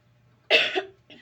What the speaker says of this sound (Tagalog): may ubo ako ngayon